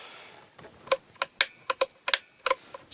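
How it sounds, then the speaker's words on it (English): A three-position pickup selector switch on a Squier Contemporary Strat HH clicks back and forth in a quick, uneven run of about a dozen crisp, close, dry snaps with short gaps between them. "Switch has a nice clicky action."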